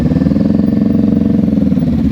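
Motorcycle engine held at a low, steady rev with light throttle blips during slow-speed riding practice, a continuous close rumble with a pulsing rhythm and no talk over it.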